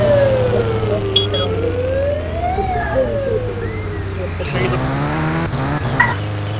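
An ambulance siren wails in rising and falling sweeps, fairly loud and steady over a low engine and road rumble, with brief clatters near the end.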